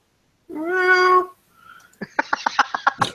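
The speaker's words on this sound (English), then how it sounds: "And there's a cat. It's coming up towards Scott." A cat gives one clear, drawn-out meow close by, then a pause and a run of short, rapid chirping or chattering sounds.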